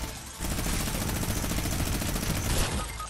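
Sustained rapid automatic gunfire in the video game Fortnite, a dense, loud burst of shots that runs for a few seconds with no gap.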